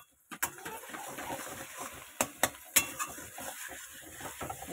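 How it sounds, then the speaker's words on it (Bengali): Spice masala with garam masala and salt being stirred and fried in a pan, quiet sizzling under a few sharp metallic clinks of a spoon striking the pan's rim. "আর এই যে ভালো করে কষিয়ে নিচ্ছি মশলাটাকে"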